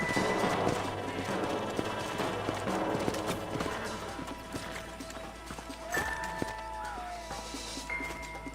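Horses in Red Dead Redemption move at a walk, their hooves clip-clopping steadily through a busy game soundscape with ambient noise and brief musical tones.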